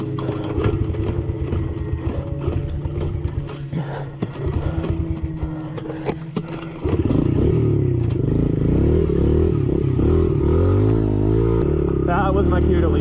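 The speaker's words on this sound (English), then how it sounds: "He tries to start his motorcycle to escape," A motorcycle engine cranks and clatters, then catches partway through and runs with a loud, rough idle, close by.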